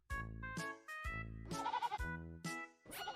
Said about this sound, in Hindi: सिंगा मुरारी, इन बकरी को अब ले चल।